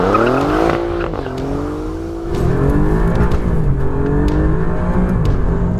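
A 2020 Alfa Romeo Giulia Quadrifoglio revs hard while being driven, the engine note climbing and dropping through gear changes, loud and close with a brief tire squeal near the start.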